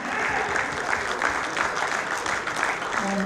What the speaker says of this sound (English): Guys, come on, a round of applause for Mr.